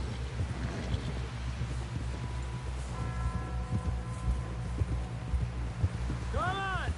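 Horse hooves clip-clopping in Red Dead Redemption 2, a steady, fairly close rhythmic plodding under wind and ambient noise, with a short tonal cry near the end.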